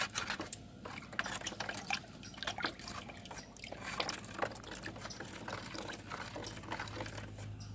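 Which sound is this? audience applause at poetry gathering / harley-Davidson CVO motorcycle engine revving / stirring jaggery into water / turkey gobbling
stirring jaggery into water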